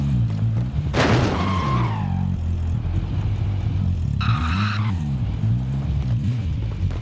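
A vehicle driving in the Call of Duty Warzone video game, a steady low engine drone with a sharp thump and skid near the start and a brief higher-pitched mechanical whine later.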